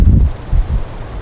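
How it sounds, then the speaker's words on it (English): Wind gusts outdoors beside a flowering plant, buffeting the microphone with low rumbling bursts that come and go over a brief moment, with no voices. "Kind of windy today"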